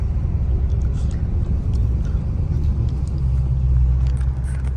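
A deep, steady engine rumble from inside a moving 800 hp Dodge Hellcat, loud and continuous with a low growl and road noise throughout.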